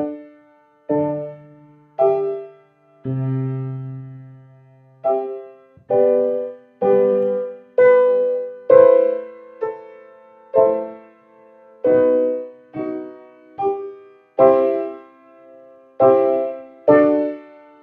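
A choir sings the finale of Beethoven's Symphony No. 9 in full harmony, phrase by phrase, with all voice parts blending in detached, rhythmic chords, loud and close.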